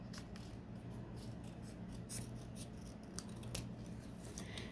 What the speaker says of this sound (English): Okay, so I'm going to cut